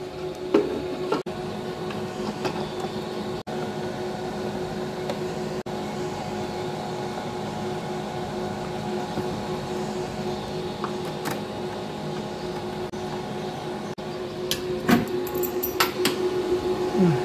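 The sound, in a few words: booster fan running noisily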